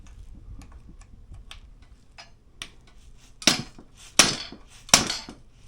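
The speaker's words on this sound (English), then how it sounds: "So with your mallet or dead blow hammer, something with a soft end" A mallet or soft-faced dead blow hammer taps a Rock Shox SID Ultimate mountain bike fork three times, sharp, close knocks at a steady pace after a stretch of quiet workshop ticking.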